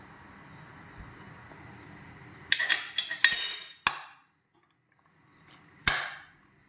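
A spoon clanks and scrapes against a pan while chicken sisig with liver and onions is stirred, producing a few loud metallic clinks in a short burst, a pause, then one more clink, close by in a quiet kitchen.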